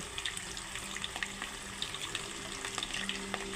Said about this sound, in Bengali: আমি আলুগুলো কেটে নিয়ে এখন ভেজে নিচ্ছি